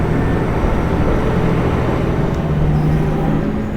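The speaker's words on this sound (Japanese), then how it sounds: "おー、久しぶりのエンジンの音。" A train engine on the Noto Peninsula, Japan, drones loudly and steadily, a dense low rumble that stays constant from start to finish.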